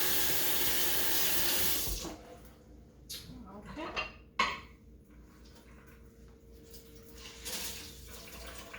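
Hot tap water runs hard into a kitchen sink during hand dishwashing, a steady rush for two seconds that then drops away to quieter splashes and a few light clinks of dishes.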